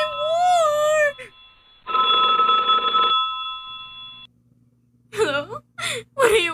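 A telephone bell rings steadily for about a second and a half in a staged radio play, alone between a woman's distressed, gasping lines before and after.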